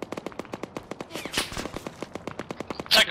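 Rapid bursts of automatic gunfire in a video game, a steady stream of evenly spaced shots with a louder blast near the end, no voices.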